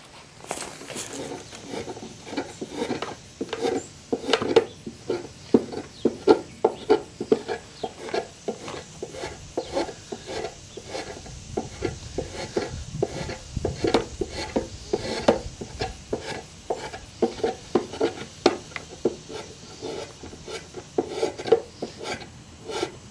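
A spokeshave shaves the bottom of a carved poplar dough bowl in a long run of short, dry rasping strokes. The strokes come in uneven bursts, close and clear, with no talking.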